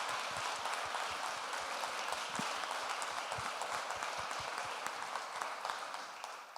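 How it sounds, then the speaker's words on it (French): Applause from a gathered audience of around a hundred people at the closing of an event, with scattered individual claps and a few sharp thumps over a steady, moderately loud patter. "Je pense qu'on peut tous s'applaudir de cette mobilisation."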